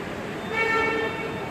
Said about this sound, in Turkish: Daha girerken kornaya basıyor